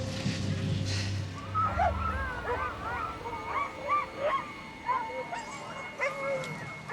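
Sled dogs on a snowy Montana winter trail bark, yip and whimper in scattered bursts, high-pitched and fairly close, after a low rumbling noise at the start.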